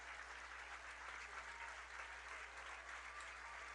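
A crowd at a 2012 CIF Central Coast Section Division II high school baseball final applauds a pitcher, a steady, dense wash of clapping sustained throughout with no voices standing out.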